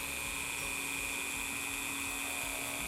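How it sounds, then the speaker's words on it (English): Dremel rotary tool spinning a cloth polishing wheel at its slowest speed, a faint steady high whine with a constant tone, running alone for a few seconds. "Sometimes my Dremel won't run this slow."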